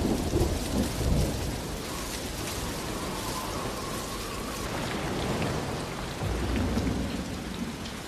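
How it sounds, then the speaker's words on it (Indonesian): Heavy rain pours steadily in a dense hiss, with deep rumbling swells underneath like distant thunder. "ketika hujan lebat turun"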